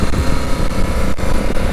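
A Honda Africa Twin DCT motorcycle runs on the Interlagos circuit, its engine a loud, close, continuous roar mixed with rushing wind as it drops through the gears.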